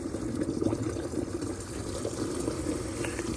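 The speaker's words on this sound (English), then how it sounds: "Filling up water just as soon as concrete gets here." Water runs steadily into the water tank of an Olin 545 concrete pump, a continuous rushing, splashing flow at moderate level with no speech.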